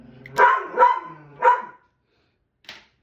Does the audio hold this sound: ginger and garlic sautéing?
no